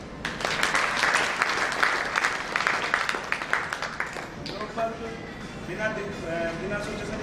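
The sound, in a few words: audience clapping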